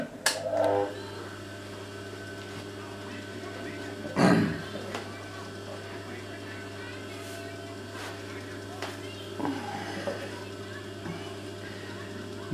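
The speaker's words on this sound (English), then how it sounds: "I'll just turn on the motor." A clutch motor on a Singer 31K15 industrial sewing machine hums steadily at a low pitch, with occasional knocks and short whirring bursts over the drone, while a person talks intermittently.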